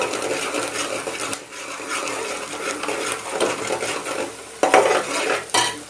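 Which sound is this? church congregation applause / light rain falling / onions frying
onions frying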